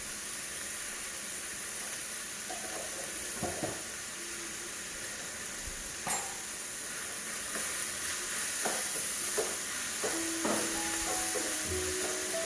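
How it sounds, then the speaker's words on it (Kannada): Capsicum sizzles steadily in a hot pan while a chicken cheese dish is cooked, with a constant frying hiss and occasional stirring clinks and scrapes. No one speaks. "ಈ ಟೈಮಲ್ಲಿ ಕ್ಯಾಪ್ಸಿಕಮ್ ಹಾಕೊಳ್ಳೋಣ ನಾವು."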